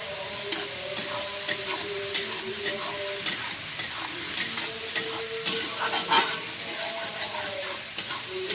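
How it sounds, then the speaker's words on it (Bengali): Vegetables fry in a pan with salt and turmeric, a loud close sizzle broken by regular spatula taps and stirring scrapes at a steady rhythm. "সবজিগুলোকে ভালো করে ভেজে নেব"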